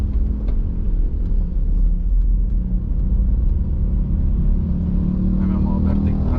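A 2010 Honda City 1.3 with manual transmission drives along, a steady low engine and road rumble from inside the cabin, with brief changes as it shifts up through the gears while a person talks over it.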